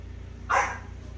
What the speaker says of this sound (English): You can hear him barking in there.